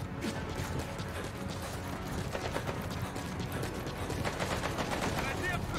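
Rapid gunfire and mechanical weapon clatter in Metal Gear Solid V: The Phantom Pain, dense and continuous bursts with steady background game noise throughout.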